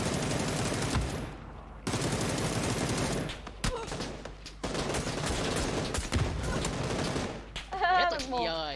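Bursts of rapid automatic gunfire from a shooting video game come in several loud clusters separated by brief pauses. Faint talk sits underneath the shooting.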